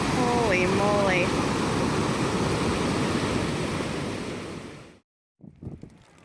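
The Animas River runs at full flow at a ditch diversion, a loud, continuous rush of churning water and a standing wave that fades out, followed by a short burst of muffled handling noise.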